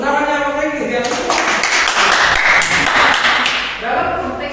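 A classroom group claps together for several seconds, a dense, steady burst of hand claps filling the room, with a voice speaking before and after.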